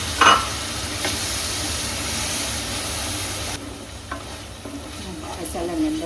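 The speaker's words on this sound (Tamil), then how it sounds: "மசாலா நல்லா ஃப்ரை ஆகிடுச்சு." Spicy masala of chilli powder, turmeric and pulped tomato frying in a pan for Tamil prawn thokku, a close, steady sizzle with a few sharp spatula scrapes and stirring clinks, no voices.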